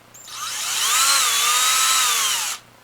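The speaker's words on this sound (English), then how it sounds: "we'll go ahead and we'll just drill a hole" Power drill boring a 1/16 inch pilot hole for a SnapBow nail, a single close, loud whining burst lasting a couple of seconds with the pitch wavering slightly before it stops abruptly.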